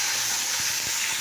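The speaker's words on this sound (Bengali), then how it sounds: "এবার আমি মাছটাকে দিয়ে দেবো" Fish is frying in hot oil, giving a loud, steady, close-up sizzling hiss that never lets up, broken by a few soft low bumps and pops beneath it.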